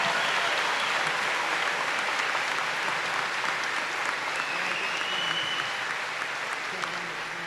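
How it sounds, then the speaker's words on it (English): Sustained applause from a large audience at a 2019 high school graduation ceremony for the valedictorians, steady dense clapping that carries on for several seconds with slight fading toward the end. "Would you please join me in giving all of our valedictorians another round of applause"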